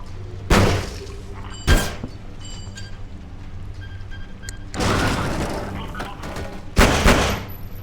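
Grenade explosions in a first-person shooter video game: a few sharp, loud thuds and bursts spread across the moment, separated by quieter game ambience, with no talking.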